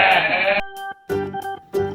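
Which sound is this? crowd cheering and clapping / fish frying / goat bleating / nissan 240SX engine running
goat bleating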